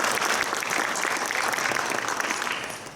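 Audience applause for a lecturer at a Korean medical ultrasound lecture, a dense steady clatter of many hands that holds evenly for about three seconds and then begins to taper.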